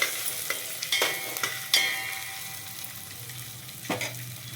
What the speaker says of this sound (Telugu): అప్పుడు ఎగ్ కర్రీ ఇది మంచిగా రోస్ట్ చేయండి. అటు ఆనియన్స్ కూడా రోస్ట్ అయిపోతాయి.